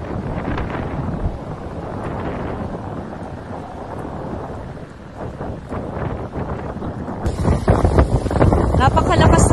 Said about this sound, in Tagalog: Napakalakas na rin po ng hangin sa mga oras po na ito